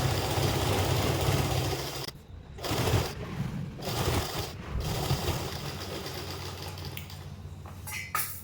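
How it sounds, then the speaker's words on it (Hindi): A sewing machine stitches the lining of a kali plazo, running in steady whirring bursts with a low motor hum and brief pauses between seams, close and with no talk. "इसे अंदर डाल के लाइनिंग पर पूरी में सिलाई लगा दूंगी"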